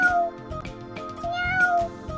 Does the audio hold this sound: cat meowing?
yes